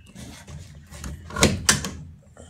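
A lawn care trailer's side door is opened, giving two sharp clunks of the latch and door about a quarter second apart. The clunks come after some quieter rattling and shuffling. The sound is close and moderately loud, with no talk.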